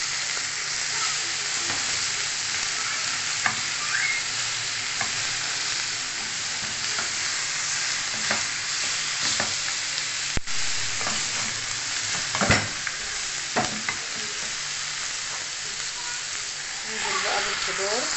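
Chicken sears in a hot pan, a continuous loud sizzle and crackle with occasional scrapes and stirring knocks running throughout, building slightly toward the end.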